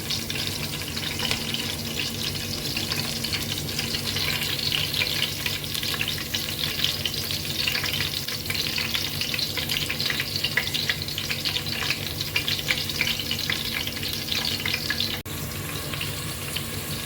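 Chopped vegetables and green chillies frying in a pan with some water, a continuous loud hiss and bubbling sizzle with occasional stirring scrapes, close up and without speech.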